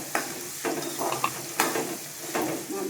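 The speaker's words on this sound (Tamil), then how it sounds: "நல்லா வதக்கிக்கணும்." Curry leaves and green chillies sautéing in hot oil with onion and asafoetida for a fish curry, a steady close sizzle broken by several bursts of stirring and scraping in the pan.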